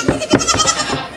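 A Nigerian dwarf goat bleats close by on a milking stand, a loud wavering cry with several quick pulses lasting about a second.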